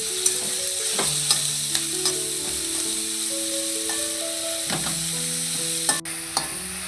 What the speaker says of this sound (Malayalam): ഇനി ഇതിലേക്ക് 2 തണ്ട് കറിവേപ്പിലയും അതോടൊപ്പം തന്നെ കുറച്ച് ഉപ്പും ചേർത്ത് നമുക്ക് സവോള നന്നായിട്ടൊന്ന് വഴറ്റിയെടുക്കാമേ.